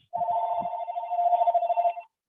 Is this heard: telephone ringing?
yes